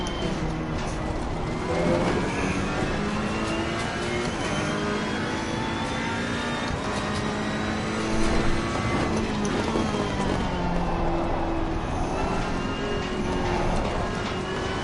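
Engines of GT race cars in Assetto Corsa Competizione at Brands Hatch drone and rev continuously at a steady, loud level, with pitch sweeping up and down as several cars run close together through a corner.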